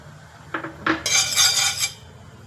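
A metal spoon clinks against a pan as ghee is added for a coconut filling, two sharp taps followed by a bright scraping rattle lasting about a second, close and alone.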